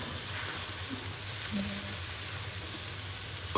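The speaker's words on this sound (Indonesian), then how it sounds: "Kita kacau-kacaukan dia sampailah rata." An oyster sauce dish sizzles steadily in a pan while being stirred, a soft continuous frying hiss with faint scraping touches of the utensil, fairly quiet throughout.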